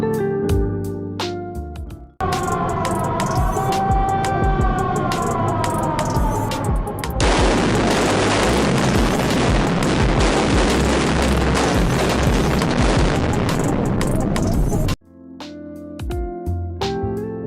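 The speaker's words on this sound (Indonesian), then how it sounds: "pemimpin peledakan akan melakukan proses firing" A deep rock-blasting explosion in an open-pit mine booms out and rolls into a long, loud roar of falling rock and debris that lasts several seconds before cutting off to quieter surroundings.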